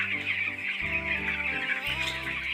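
Broiler chicks inside a poultry farm shed, many birds peeping and clucking together in a continuous chorus that is moderately close and steady, with no voices.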